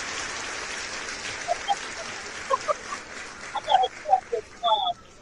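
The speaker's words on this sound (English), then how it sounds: "Let me get a clap for that." Podcast audience members give a fairly faint, thin round of clapping that fades gradually, with short squeaky chirps and whistle-like bursts popping up toward the end.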